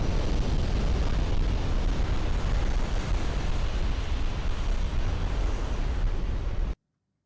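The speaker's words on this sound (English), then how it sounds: "another turret's going." A warship turret exploding in Ultimate Admiral: Dreadnoughts, a loud, sustained roaring blast with heavy low rumble that holds steady for several seconds and then cuts off abruptly into silence.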